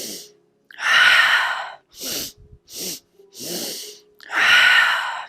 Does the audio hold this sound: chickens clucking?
no